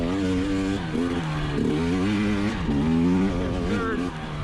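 An enduro dirt bike engine revs up and down on a trail ride, a loud, close, wavering buzz with quick throttle blips, a rider's voice faintly mixed in.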